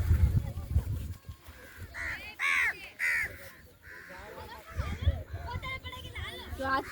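Crows caw repeatedly at a Hanuman temple in Umba, a few harsh calls standing out over a busy background of people talking and outdoor noise.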